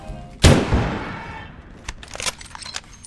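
Patois Rifle, a sniper rifle in the video game Abiotic Factor, fires one loud sharp shot that decays over about a second, followed by fainter metallic clicks and clatter of handling.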